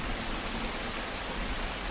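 Steady autumn downpour outside a 24-hour laundromat at night, an even, dense hiss of rain with no breaks or other sounds.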